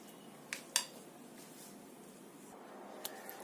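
Chana chaat is served into a dish with a couple of light clinks of a spoon against a plate, followed by soft, faint scraping and a few tiny taps in a quiet kitchen.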